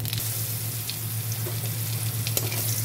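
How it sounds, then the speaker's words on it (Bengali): Cumin seeds sizzling in hot oil for tempering in a fish curry pan, a steady close crackling fizz with small pops, no talking. "এবার আমি জিরে ফোড়ন দিলাম"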